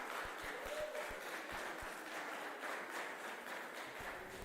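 A conference audience applauds for a company's representatives, a sustained dense patter of many hands with a few sharper close claps near the start, steady and fairly loud throughout.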